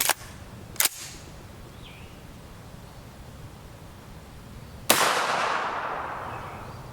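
Three sharp gunshots from a rifle firing subsonic ammunition at a target about 15 yards away, two close together at the start and a louder one later with a long decaying echo across open ground.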